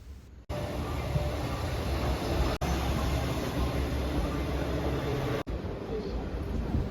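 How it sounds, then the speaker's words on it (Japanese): Steady low rumble and hiss inside an electric train riding through rainy Shimane toward Izumo city, continuous and fairly loud, broken only by a few brief dropouts. "電車に乗って出雲市の方へと向かっていきます。"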